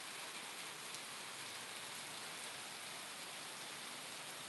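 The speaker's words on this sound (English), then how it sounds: "Probably because of the rain." Steady rain falls in the Philippines, a dense, even hiss of drops hitting surfaces with no breaks and no talk, fairly faint and continuous throughout.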